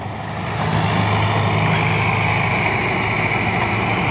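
Sonalika DI 60 tractor engine running steadily, a loud continuous diesel rumble that swells up in the first half second and then holds even and unbroken, with no one speaking.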